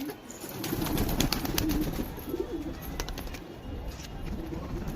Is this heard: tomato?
no